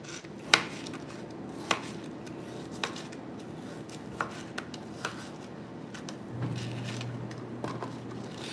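A knife chopping through bone-in meat on a cutting board while cooking, heard as a series of sharp, spaced thuds near the mic, followed by a low steady hum near the end.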